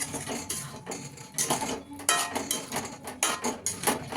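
Fried chicken being stirred into masala in a metal pot, repeated clanking and scraping of a spoon against the pot in an uneven rhythm, close and fairly loud, without speech.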